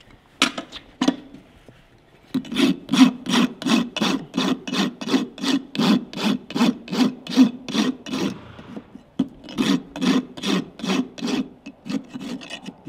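A farrier's rasp files down the clenches on a horse's hoof wall in a brisk, even train of about twenty close, loud scraping strokes, with a brief pause partway through.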